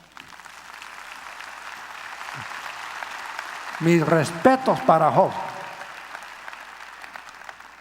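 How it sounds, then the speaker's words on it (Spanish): Steady clapping from a church congregation during a sermon, a soft continuous patter under someone speaking briefly over it, moderately distant and fairly quiet. "¿No merece Job un aplauso ustedes?"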